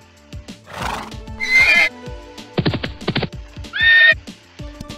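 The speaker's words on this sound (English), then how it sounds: "we're going to go into the sound library, choose a sound, and we're going to choose horse." Stock horse sound effect from the Scratch sound library: a nearby horse neighs in loud, shrill whinnies over steady clip-clop hoofbeats, with a final high neigh before the hooves trot on.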